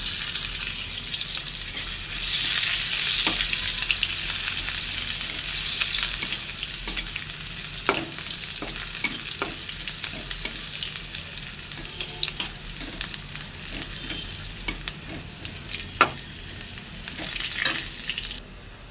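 Chopped onion and garlic fry in a pan with a steady close sizzle, broken by sharp crackles and stirring clicks throughout, with a faint watery hiss and no voices.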